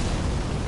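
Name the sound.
Fire's Deadly Sin spell explosion in the Elden Ring video game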